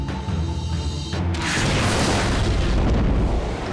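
A tank cannon fires in a Golan Heights battle and the shell explodes into a long, heavy, rumbling roar. It is loud and sustained and fills the whole moment, with no talking.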